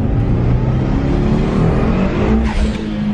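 A Mitsubishi Evo's engine roars loudly at close range as it is revved hard while the car is tested on newly fitted wheels, a sustained throaty drone with no talk.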